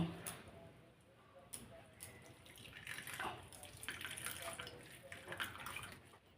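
Water trickles and drips from freshly made chhena (cottage cheese) set to drain for chhena jalebi, a soft, uneven wash of liquid noise at moderate distance with faint background sounds.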